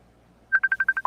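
A telephone rings or dials with a rapid string of about seven short electronic beeps close and clear, ending abruptly after a quiet moment.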